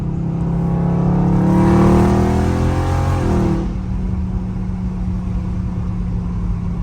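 A loud Dodge Challenger Scat Pack revs hard under aggressive driving, engine note climbing to a roaring peak before dropping back to a lower rumble, close and with no talk.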